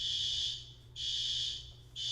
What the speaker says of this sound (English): I see fire alarm now.